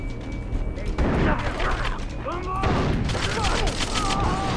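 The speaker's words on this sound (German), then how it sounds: "Sag mal, die schießen mit Raketenwerfern auf mich!" Rocket launchers fire on the player in the Far Cry 3 game, a loud chaotic barrage of blasts and crashing booms with whooshing streaks, heard alongside excited talk.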